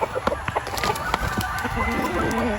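Chickens cluck and crow in a farmyard flock of young stags and pullets, including street-breed white kelsos, with repeated short calls near and far over steady outdoor noise.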